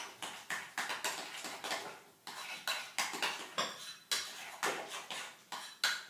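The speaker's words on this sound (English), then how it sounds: "And then you stir it." A spoon stirs cashew cheese in a bowl, scraping and clinking against the sides in a steady, close rhythm of repeated strokes over about six seconds.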